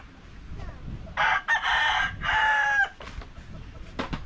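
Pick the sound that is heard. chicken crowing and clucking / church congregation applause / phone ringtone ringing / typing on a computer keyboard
chicken crowing and clucking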